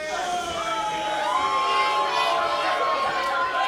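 A wrestling show crowd in a packed venue cheering and shouting, with high whoops and children's yells rising together into a sustained, loud roar.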